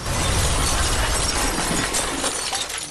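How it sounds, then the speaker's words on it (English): A truck smashing into a car in the Watch Dogs game: a loud, dense crash of shattering and grinding metal and glass sustained for a few seconds before tailing off slightly. "Was that just like a truck smashing into a car?"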